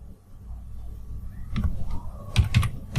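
Keys tapped on a computer keyboard while entering a contract value: a quiet lead-in, then several close, sharp clacks in small irregular bursts.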